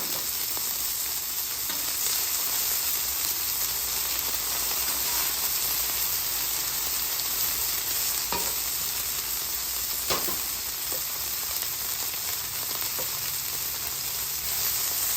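Cornstarch-coated beef frying in batches on a griddle, a constant close sizzle with occasional soft clicks and scrapes, no talking.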